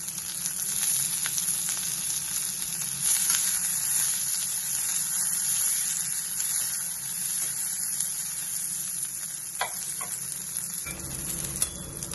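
Onion, capsicum, corn and broccoli frying in a pan for a creamy pasta, giving a steady, close hiss of sizzling oil with faint stirring, continuous and without any voices.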